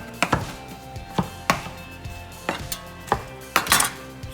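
Knife chopping fish into cubes for tacos on a cutting board, about eight sharp, close, loud chops at an uneven rhythm with brief gaps between them.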